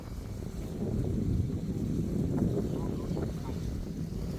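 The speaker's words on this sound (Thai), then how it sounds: "แต่ว่าตอนนี้ลมพัดแรงมากนะคะ" Strong wind blows in an open spot with mountains in the distance, a low, continuous rumble buffeting the microphone and swelling slightly as someone talks faintly over it.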